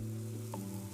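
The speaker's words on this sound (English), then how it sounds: "that slight little sizzle, I don't know if you can hear it" A vegan shish kabob sizzles gently in the pan, a faint, steady crackle over a low hum, short and soft.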